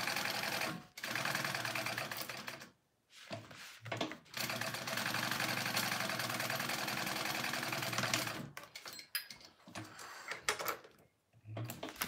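A sewing machine runs in long steady bursts, basting a panel onto a crossbody bag, with brief pauses between stretches of stitching; no talking over it.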